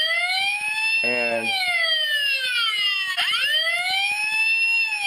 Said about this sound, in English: sirens up.